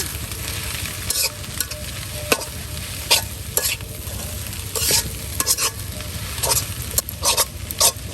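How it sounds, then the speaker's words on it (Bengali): Jute leaf greens frying with egg, onion and garlic in a pan, with a loud steady sizzle and repeated scraping stirs of a spatula at an uneven rhythm, close up and alone without talk. "এখন এই যে শাক ডিম দিয়ে আপনার শাক ভাজি করে নেওয়া হচ্ছে"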